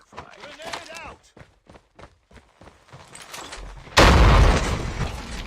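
A grenade goes off in Call of Duty Mobile: a loud, sudden blast with a long rumbling tail that follows a stretch of quieter footsteps and voice callouts.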